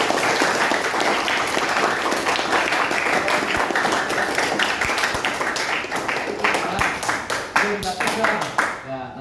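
Audience clapping hard in a classroom or workshop setting, dense and sustained throughout, with talk and voices mixed in beneath the claps before it thins out near the end.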